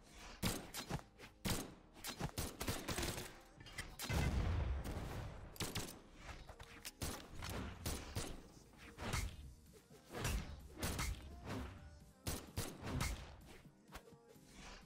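Rapid bursts of blaster fire, thumps and whooshes crackle in the Brawlout fighting video game, a busy, irregular string of sharp hits at low volume.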